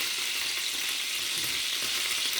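Pork chops browning in a pan, giving a steady, close hiss of sizzling fat with no breaks.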